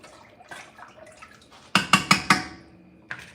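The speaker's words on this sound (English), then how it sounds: "So I have to hurry up and rinse it." A stained bowl gets rinsed under running water in a home kitchen while making chicken noodle soup, with a quiet trickle followed by four quick sloshing splashes and a final small splash, close up, no talk.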